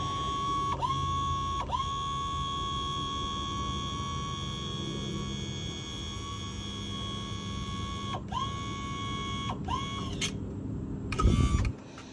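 Johnson 88 Special outboard motor lowered on its power tilt and trim, a steady electric whine from the hydraulic pump motor that keeps running, pitch dipping at brief stops and restarts before a clunk near the end.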